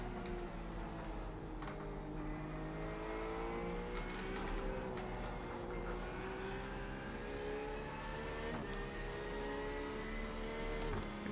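A race car's engine drones steadily through an iRacing IMSA Series race at Lime Rock, its rising and falling harmonic whine filling the scene as another car closes in from behind.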